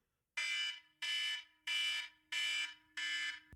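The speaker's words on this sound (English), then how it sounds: "you can hear that alarm at your end, Travis?" Five loud, evenly spaced electronic alarm blasts, each about half a second long with short gaps between, piercing and close.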